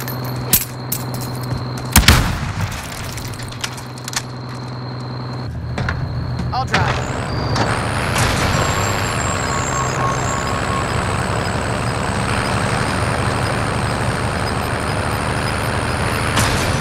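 Vehicle in Call of Duty: Warzone, starting with scattered thumps and a sharp burst before a steady engine drone builds and holds with a high whine on top, while a voice talks over it.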